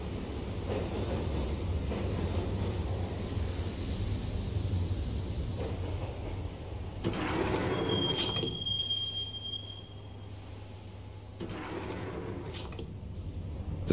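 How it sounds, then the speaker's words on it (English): A subway train rumbles steadily into Roscoe Street Station in the video game Max Payne, with a continuous low roar, a brief high wheel squeal midway and rising brake hiss near the end. "the train doors had already shut behind me, and I was in for the ride"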